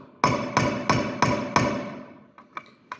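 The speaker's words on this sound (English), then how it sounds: "I am just going to tap this in with a carpenter's hammer." A carpenter's hammer drives a string ferrule into place with five sharp, evenly spaced strikes, each ringing briefly. Two lighter, quicker taps follow, and there is no talking.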